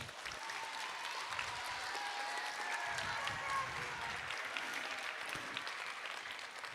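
An audience of families applauds fourth-grade award winners at an elementary school end-of-year ceremony, a sustained, even rattle of many hands clapping at moderate volume for several seconds, with faint voices mixed in.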